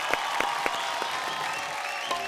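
An audience applauding on a folk singing reality show, steady loud clapping from a crowd with a few sharper claps standing out, continuous and without talk over it.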